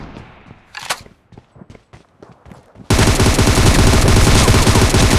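M762 rifle gunfire in the BGMI battle game. Sparse clicks and shots give way to a sudden, loud, sustained automatic burst that fills the rest of the moment.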